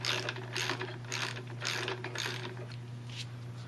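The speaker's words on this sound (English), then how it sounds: "Now we're going to take the 10mm, break this guy loose." A 10mm wrench ratchets steadily as it breaks a bolt loose on a Fox 36 fork, a close run of quick metallic pawl clicks in repeated bursts over a constant low hum.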